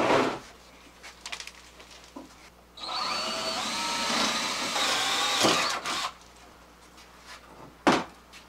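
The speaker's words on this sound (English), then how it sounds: "Now let's drill." A power drill whirs steadily for about three seconds in the middle while a chicken coop is being built, with quiet knocks and handling sounds before and after.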